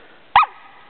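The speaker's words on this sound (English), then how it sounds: "Are you barking at me?" A single short, sharp bark from a dog outdoors on a logged-off hillside, loud and close, standing alone against a quiet background.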